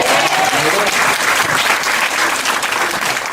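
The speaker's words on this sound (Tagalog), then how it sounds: "Pumapalakpak na ako." An audience at a company gathering breaks into applause, a dense, loud wash of clapping that holds steady from start to finish with no pauses.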